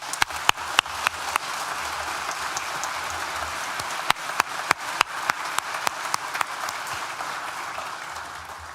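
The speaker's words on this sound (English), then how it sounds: "Please join me in thanking them with a well-deserved round of applause." A graduation ceremony audience at Nottingham Business School claps, a dense, steady wash of applause from a large crowd in a hall, with sharper individual claps standing out throughout and no speech.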